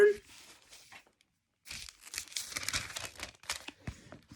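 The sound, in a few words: page of a Bible being turned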